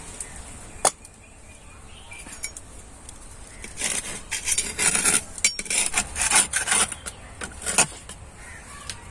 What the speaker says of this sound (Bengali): আমি ঢাকনাটাকে তুলে নেব।